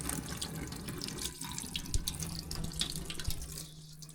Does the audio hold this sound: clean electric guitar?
no